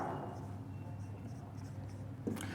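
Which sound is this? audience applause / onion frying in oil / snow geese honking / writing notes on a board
writing notes on a board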